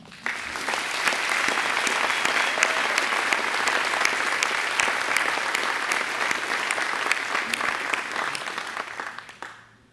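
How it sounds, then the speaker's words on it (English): Audience applause at a community service award breakfast: a sustained round of clapping from a seated crowd, steady and dense for about nine seconds before fading out. "Please join me in a round of applause for Linda."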